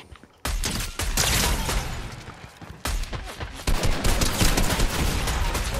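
Pistol gunfire in a multiplayer shooter video game: loud, rapid volleys of shots, with a short lull near the start and another midway before the shooting resumes harder, no speech.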